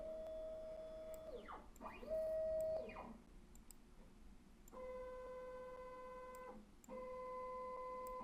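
A SwiftyCNC machine's gantry moves under jog control, giving steady whining motor tones that rise and fall in pitch as it speeds up and slows down, in several separate runs with short quiet gaps between them.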